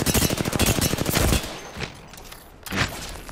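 Rapid automatic gunfire in the battle royale game Apex Legends, a dense burst of close, loud shots for over a second, followed by a couple of isolated single shots with quieter gaps between.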